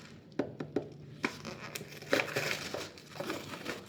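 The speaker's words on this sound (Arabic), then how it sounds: "استنوا افتح لكم الاول الحاجه الباربيكيو" A plastic barbecue seasoning packet from an instant rice kit is torn open and handled, making sharp crinkles and rustles in uneven bursts at close range.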